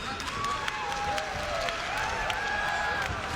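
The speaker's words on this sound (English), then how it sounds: "This crowd is loud" A crowd at a mixed martial arts fight keeps up a broad, steady cheering and clapping under a commentator's voice, with scattered shouts rising out of the arena noise.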